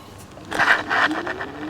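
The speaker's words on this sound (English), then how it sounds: "you can hear the wheels spin out" A brief whirring scrape rises and surges twice as an Arvala C-Pro electric scooter's wheels spin out uphill in mode 3, a motor whine climbing steadily underneath, fairly close with no talking.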